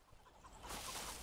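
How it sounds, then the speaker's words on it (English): Chickens in a survival video game give a brief, faint burst of clucking, softer at first and then a little fuller, with no talk over it. "Chickens! Let's get the chickens."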